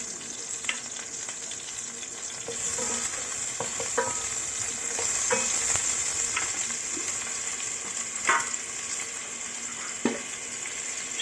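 Butter frying with pasta in a pan, giving a steady sizzle with scattered clicks and scrapes of stirring throughout, moderately close and without speech.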